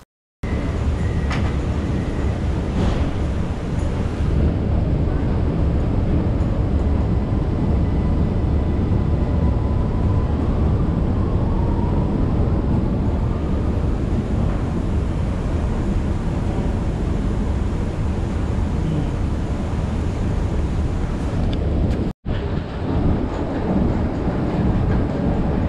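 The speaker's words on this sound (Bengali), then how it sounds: "এটি হচ্ছে ক্যাপলা প্লাস মেট্রো স্টেশন।" Metro train at Kagraner Platz station in Vienna, a loud, sustained rumble and roar of the train running through the station with brakes squealing faintly, broken by one brief dropout near the end.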